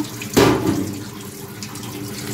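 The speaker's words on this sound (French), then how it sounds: "Ok, und dann schön abkühlen im kalten Wasser." Cold water runs from a tap over food being cooled, a steady close splashing stream with a brief louder gush near the start, no voices.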